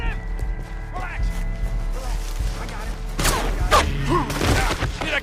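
Gunfire from a Western shooting scene in the video game Red Dead Redemption 2, with sharp loud reports after a few seconds over music and ambience, while people talk throughout.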